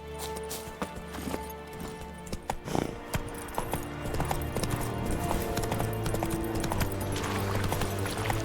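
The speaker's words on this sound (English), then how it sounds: "Lo bueno es que ya con el caballo me muevo de un lugar a otro muy rápido." Horse hooves clip-clopping in The Witcher 3: Wild Hunt, a steady rhythmic trot of galloping steps over a busy game soundscape with music, continuing throughout.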